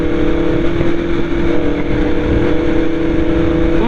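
A BMW motorcycle engine hums steadily while riding. The tone is a loud, continuous drone with a fairly constant pitch, and wind rush sits under it.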